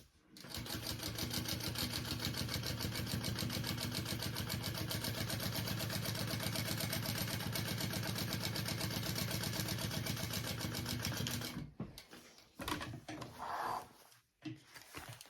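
A sewing machine stitching a tote bag runs steadily with a fast, even mechanical chatter for about eleven seconds, then stops, leaving brief handling noises and faint sounds.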